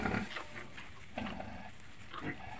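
Newborn piglet grunting during a sow's farrowing, short low grunts recurring irregularly over steady background noise, moderately quiet and close.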